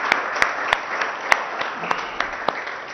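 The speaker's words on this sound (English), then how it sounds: "they deserve a huge round of applause from all of us." Scattered audience clapping at a signing ceremony, with several sharp, distinct claps standing out over a soft, steady patter of applause.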